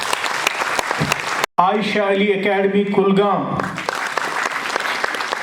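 Sustained applause from a crowd at an awards ceremony in a hall, loud and continuous, while an announcer's voice speaks over it through a PA.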